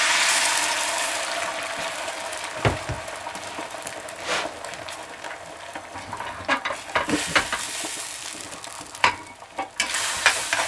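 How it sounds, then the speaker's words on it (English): Beaten eggs sizzling and being stirred in a hot pan for chorizo breakfast burritos, a steady close frying hiss with intermittent scraping strokes and soft taps of a utensil. "We're going to add our eggs back to our pan."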